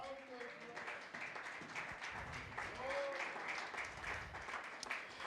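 Sustained applause from a church congregation during a sermon, steady and fairly distant, with a voice speaking over it.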